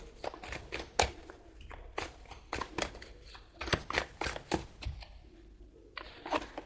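Tarot cards are handled and shuffled close by in a rapid, irregular string of soft flicks and papery slaps, fairly quiet, with no talking.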